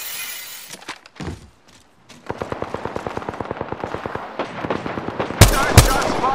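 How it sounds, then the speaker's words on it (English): Rapid automatic gunfire in the video game Apex Legends, a fast steady string of loud shots ending in a couple of heavier blasts, with brief in-game noises before it. "Nine shots fired and they're hitting me."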